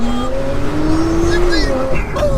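An AWD car launching hard from 0 to 60, its engine note climbing steadily through the revs with a brief dip at a gear change, loud and close under excited voices.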